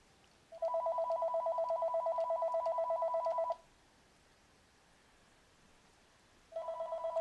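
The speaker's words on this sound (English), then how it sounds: "of course my phone is ringing" A phone rings with a warbling electronic trill, one burst of about three seconds, a pause, then a second burst starting, clear and close with no talk.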